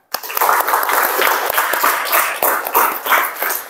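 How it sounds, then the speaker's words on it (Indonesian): A classroom of students gives a round of applause for a classmate after a music lesson answer, steady dense clapping lasting a few seconds at close range. "berikan aplaus untuk Kansa ya"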